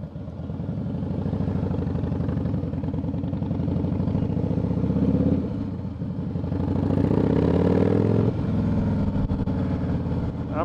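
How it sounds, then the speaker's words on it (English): A big Harley-Davidson with a 110 Screaming Eagle engine and tuned Vance and Hines pipes rumbles nearby in a deep, throbbing idle, the engine note swelling briefly near the end before settling again; no talking. "this big fat Harley here has the 110 Screaming Eagle engine in it, and I've got tuned Vance and Hahn pipes on it"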